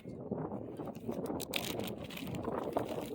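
Wind blowing outdoors in the White River Badlands, a steady, fairly quiet rushing roar buffeting the microphone with no pauses and no talking.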